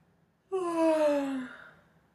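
A voice imitates a single drawn-out yawn in a story for children, one smooth falling tone that swells and fades over about a second in an otherwise quiet space.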